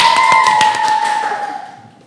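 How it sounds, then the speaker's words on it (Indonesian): A short burst of hand clapping from a small group, fairly close, fading out over about two seconds with a lingering tonal ring. "Tepuk tangannya dong."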